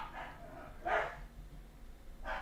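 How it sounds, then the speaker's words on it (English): Several dogs inside a house let out short barks and yips, a couple of brief bursts over a quiet room background with no talking. "5 dogs in the house deciding they're going to howl right away."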